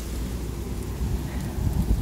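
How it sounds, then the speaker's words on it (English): Strong gusting wind buffeting an outdoor microphone at a fire scene, a low rumbling roar that swells toward the end, with no speech. "It is very windy out, so I'm not sure how it's going to sound."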